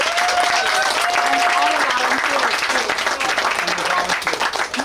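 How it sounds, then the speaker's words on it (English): Audience applause fills the room for a speaker at a talk on agroforestry and permaculture, a dense steady clapping that holds for several seconds before thinning slightly, with some voices mixed in. "Let's give her a big round of applause."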